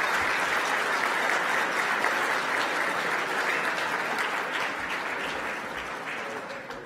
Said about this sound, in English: j'aimerais ça qu'on donne une bonne main d'applaudissement